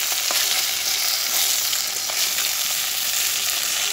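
A spice tempering for Bengali fish curry sizzles and fries in hot oil as a loud, constant hiss with faint stirring clicks.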